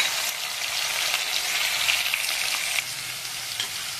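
Chana dal and fenugreek seeds fry in hot oil in a pan for Telugu ridge gourd and split chickpea curry, giving a steady, close, even sizzle with faint stirring, with no voices over it.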